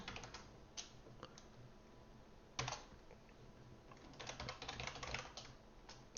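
Quiet clicking and tapping from a faulty computer keyboard comes in uneven bursts with pauses between them and a few louder, sharper clacks, with no voices.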